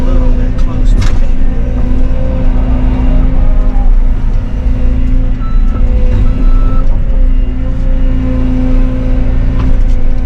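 A dump truck idles loudly at a dirt-moving site, its engine droning steadily. Reversing beeps cut through at intervals and someone talks over the engine noise.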